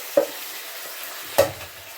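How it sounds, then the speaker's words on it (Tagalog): Chicken arroz caldo being stirred in a pot after the rice is added, giving two soft scraping strokes about a second apart over a quiet background with faint simmering. "Mix it all together."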